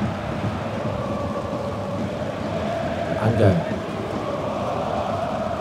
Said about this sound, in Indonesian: hujan terus mengguyur di stadion di sore hari ini